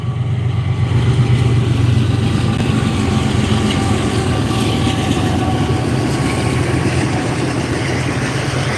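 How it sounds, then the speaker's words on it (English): A freight train passing outdoors in Ohio gives a steady, loud, low rumble that holds evenly for the whole stretch, with a faint tonal whine above it and no voices. "Here comes the train."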